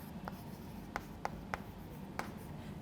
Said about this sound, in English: Let's write down the expression.